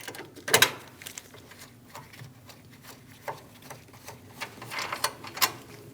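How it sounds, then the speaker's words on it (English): Sparse, crisp clicks of a 10mm socket ratchet loosening the ground strap nut on a 2016-2025 Chevrolet Malibu 1.5L cooling fan assembly come in short separate bursts over a quiet workshop background. "we're going to remove the nut for the ground strap"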